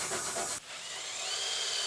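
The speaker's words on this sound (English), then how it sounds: "I'll use the plastic wheel to get any of that loose paint off of there" A brief scraping rub, then a plastic abrasive wheel whirs on steadily with a smooth high-pitched grinding hiss, removing loose paint from a 2018 Ford Explorer's front sway bar area.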